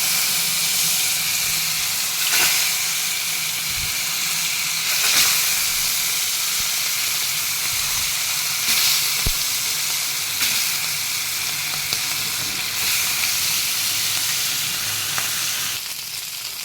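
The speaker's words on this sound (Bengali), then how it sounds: "মাছ ভাজা হচ্ছে" Fish fries in hot oil in a frying pan with a loud, steady hissing sizzle that persists throughout, punctuated by a few soft knocks and spatters, with no speech.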